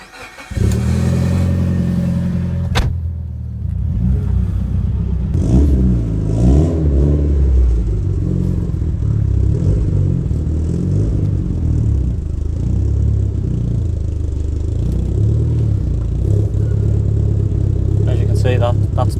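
A Mitsubishi Evo 8 engine idles loud and close after a start, a steady deep rumble that runs throughout with small revs, while a person talks over it.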